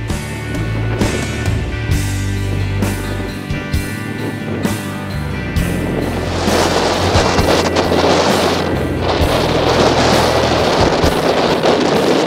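Blustery wind gusts buffeting the microphone beside the Colorado River near Parker Dam, with a steady, loud rumbling roar and broadband rushing that swells stronger in the second half, no voices.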